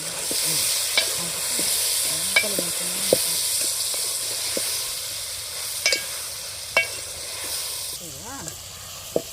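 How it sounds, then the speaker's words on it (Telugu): Steady oily sizzling with intermittent scraping clinks of a spoon stirring onion curry in a lidded pan, a few sharp knocks standing out. "ఒకసారి మూత తీసి కలుపుకుందాం"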